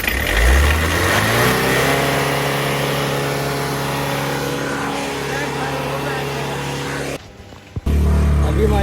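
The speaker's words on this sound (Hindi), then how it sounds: "अभी हमारी गाड़ी स्टार्ट हो गई है बड़ी मुश्किल से।" A car engine that started only with great difficulty revs loud and close, its pitch climbing and holding steady, then drops out briefly before roaring back up.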